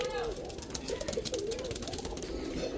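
Pigeons at a roadside pigeon seller's stall, including a pair of high-flyer Gangchil Kaldom pigeons, give low, continuous cooing over a busy background of people talking and street noise.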